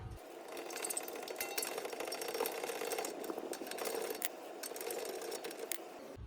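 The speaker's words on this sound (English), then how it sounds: "Once that's loose, we're going to start cracking our nut here." Ratcheting metallic clicks and rattling from an adjustable wrench cracking loose a tie rod end nut on a Chevy Equinox or GMC Terrain, steady and close throughout with no talking.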